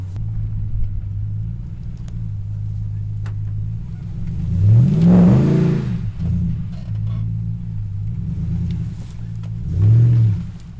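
A Ram Power Wagon truck engine revs hard off-road, a steady low rumble swelling into two loud revving surges, the first longer and the second shorter, close by with no talk.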